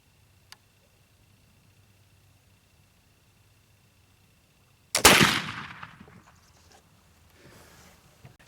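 A single loud black powder gunshot goes off about halfway through after near silence, with a sharp broadband blast and a rough decaying tail that trails off over a few seconds.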